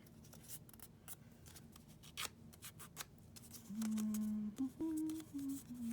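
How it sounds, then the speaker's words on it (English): Scissors snipping paper for a Christmas craft, a run of quiet close cuts followed by a louder, rough sliding sound, no talking. "Kind of cut Santa's face off"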